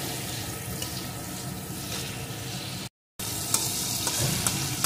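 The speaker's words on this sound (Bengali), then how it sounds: "মশলাটা একটু কষিয়ে নিতে হবে।" Spices with turmeric and salt sautéing in a pan for a light potato and tomato curry with tangra fish, a continuous close sizzle with stirring scrapes, briefly cut out before the frying resumes.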